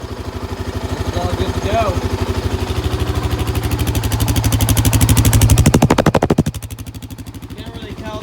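Honda TRX700xx ATV engine idling while warming up, a steady close-up chugging pulse that rises slightly then drops to a lower idle, with someone speaking briefly over it.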